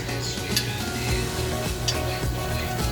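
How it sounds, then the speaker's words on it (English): A spoon stirs a paleo vegan teriyaki marinade of sesame oil, maple syrup and coconut aminos, giving a steady, close scraping and swishing with light clinks against the bowl. "Give that a stir."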